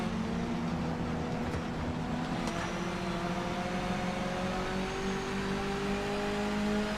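Aston Martin GT3 Vantage race car engine in a racing video game, a steady droning whine holding a fairly constant pitch with gently rising tones, continuous and moderately loud.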